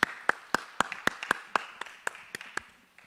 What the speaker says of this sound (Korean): 우리 박수로 환영하고 축복하겠습니다